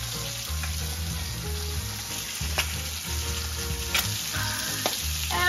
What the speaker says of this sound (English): When you're cooking asparagus on a skillet, make sure each one is touching the bottom of the pan.